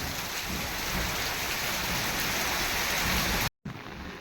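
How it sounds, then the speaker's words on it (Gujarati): Heavy monsoon rain pouring down on village farm fields in a dense, continuous roar close by, briefly cutting out near the end before resuming. "કેવો વરસાદ છે"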